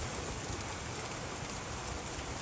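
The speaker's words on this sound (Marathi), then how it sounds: "पाऊस येतोय आणि उन्हात पाऊस येऊ राहिला." Heavy rain with big drops falling during sunshine, a dense, loud, unbroken patter of water on surfaces.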